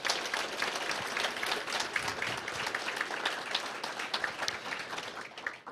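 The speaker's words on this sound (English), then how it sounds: "if you want to hear what you sounded like when you applauded" Steady audience applause in a library room after a candidates' election debate in Prince George, with many hands clapping densely and continuously at moderate loudness, without speech.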